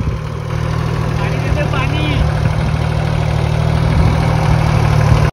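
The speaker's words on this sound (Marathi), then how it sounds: "आता इंजिन फास्ट नाही, तर तुम्हाला आवाज येत असेल" A vintage 1990s motorcycle engine idles with a steady, low, continuous hum, and faint voices are audible in the background.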